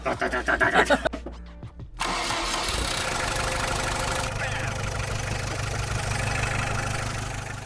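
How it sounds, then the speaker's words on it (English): A van engine idles with a steady low rumble after some brief handling noises, running loud and continuous close by through the rest of the clip. "so the engine is running, which is a very good thing"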